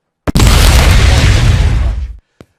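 A single loud explosion bursts in with a sharp crack and a heavy rumbling roar that holds for about two seconds before cutting off, followed by a faint short pop.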